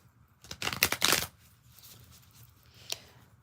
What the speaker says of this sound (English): let's give this a couple of quick shuffles